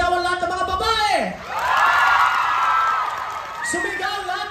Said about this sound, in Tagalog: Palakpakan at sigawan lahat ng mga babae!